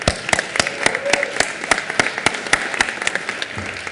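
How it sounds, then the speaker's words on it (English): A chamber of state senators in the Colorado Senate applauds a colleague, with dense, steady clapping from many hands, fairly close and continuous, a few sharper claps standing out, and no talking. "So would you please join me in clapping for our colleague, Lucia Guzman."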